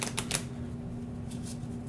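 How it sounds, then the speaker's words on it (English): Playing cards for the Raiders of the North Sea board game are riffle-shuffled in a few quick, crisp bursts over a steady background hum. "I'm just shuffling off camera because there's not really a great place to do it out here"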